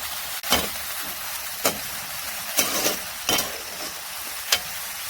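Onion, green chilli and tomato fry in a pan with a steady close sizzle, broken by several sharp scraping stirs of a spoon at irregular intervals.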